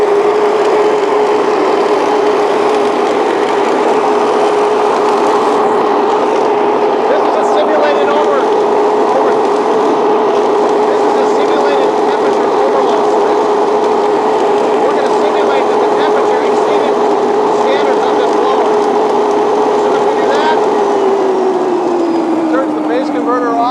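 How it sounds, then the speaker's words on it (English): A vacuum blower driven through a GENTEC T3 phase converter with thermal overload protection runs loud and steady throughout, a sustained mechanical drone with a constant tone that drops slightly in pitch near the end. "So we're going to start that machine here remotely with the T3. Now that it's running,"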